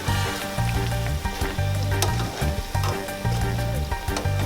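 Tostones sizzle in hot oil with a steady, dense crackle, close and fairly loud, with no talking over it.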